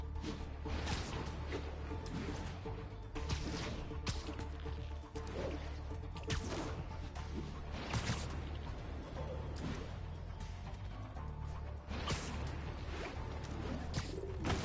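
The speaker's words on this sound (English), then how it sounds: "This pigeon knows the city better than I do." Pigeon cooing in Spider-Man PS4, soft repeated coos set against a steady city ambience with occasional louder game effects over the whole stretch.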